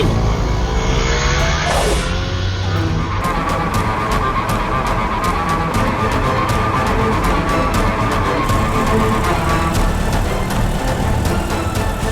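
A car pulls away steadily, its engine noise continuous and fairly loud from start to finish over busy background noise, with no clear voices.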